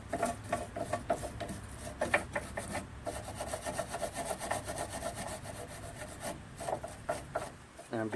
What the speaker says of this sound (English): just getting a brush to brush off the rust build-up around the pin area, the pin that holds the float